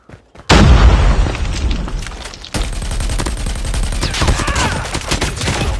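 A grenade blast and bursts of gunfire in a Call of Duty Mobile ranked multiplayer match: a sudden loud boom followed by dense, rapid rattling shots that continue close and heavy throughout.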